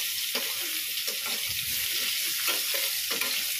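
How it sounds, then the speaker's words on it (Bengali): Elephant foot yam and potato pieces fry in hot oil seasoned with whole cumin, fennel, salt and turmeric, giving a steady close sizzle with a few scraping stirs throughout. "দেখো এখানে ওল আর আলু ভাজছি"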